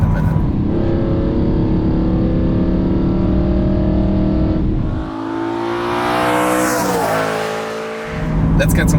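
A BMW E92 M3 engine pulling hard while driving, a loud rising drone from inside the car that climbs in pitch through the gears, with a short shift dip midway before the pull resumes.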